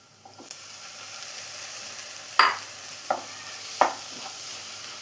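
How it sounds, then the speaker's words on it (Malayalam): Tomatoes sautéing in a pan for paneer mushroom masala, a soft, steady sizzle broken by a few sharp scrapes and clinks of a stirring spoon, close by with no talk. "ഇനി തക്കാളിയും കൂടി നന്നായിട്ട് തന്നെ ഒന്ന് വഴറ്റിയെടുക്കണം."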